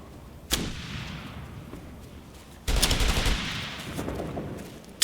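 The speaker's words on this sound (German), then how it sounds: "Die ballern eine Menge Munition auf mich!" Gunfire in the military shooter Operation Flashpoint: Red River, with sharp shots and bursts of rifle and heavier fire crackling through a noisy battlefield backdrop, loud and close with lingering echoes.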